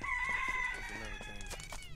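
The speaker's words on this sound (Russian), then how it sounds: "петух прокукарекал, первый раз слышу" A rooster crows in a drawn-out, rising call in the video game Gothic 3, over steady game background noise, fairly clear and close.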